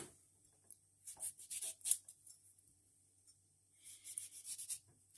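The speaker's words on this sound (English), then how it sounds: "this is how we cut our tomato" A blunt kitchen knife cuts through a tomato in quick scraping strokes, two short bursts of close, crisp cutting with a quiet pause between them.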